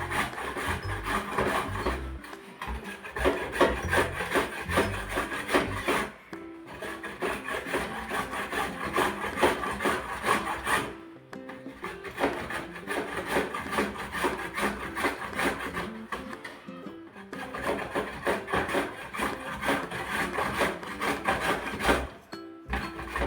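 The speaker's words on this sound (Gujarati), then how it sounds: "આમળા પહેલાં છીણી નાખવાના છે" Indian gooseberries (amla) are rubbed against a hand grater in steady, rhythmic rasping strokes, with brief pauses every few seconds as the fruit is repositioned; no talking.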